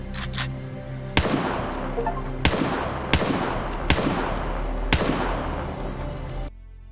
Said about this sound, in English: Shooting at the firing range does not consume your valuable ammo. Fire at will.